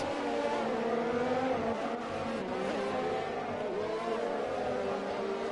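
Race cars roaring around the Russia circuit in an F1 league racing game, a steady, loud engine drone that holds without a break throughout.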